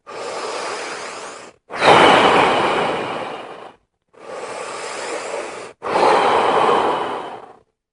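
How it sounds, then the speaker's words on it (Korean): Four slow, deep breaths in sequence, each a long airy rush of inhaling or exhaling separated by short pauses, close and fairly loud, demonstrating deep breathing during a cancer seminar talk; no speech. "숨 쉬는 거는 심호흡 말씀드리는 거예요."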